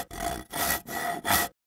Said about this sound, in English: A saw